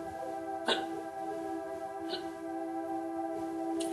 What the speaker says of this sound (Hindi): हिचकी